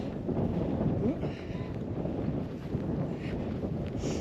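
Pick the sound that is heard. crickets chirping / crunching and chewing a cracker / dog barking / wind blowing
wind blowing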